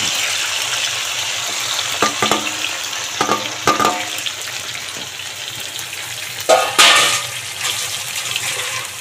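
Aubergine pieces fry in oil for a Rayalaseema-style curry, a steady soft sizzle with several brief scraping stirs and clatters, one louder burst near the end, and no talk.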